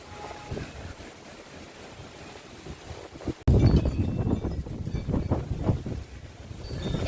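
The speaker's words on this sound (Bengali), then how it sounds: "বেশ ঝড় উঠেছে গো" Strong storm wind roars and buffets the microphone in a steady rush, then jumps abruptly louder partway through and keeps gusting hard. No one speaks.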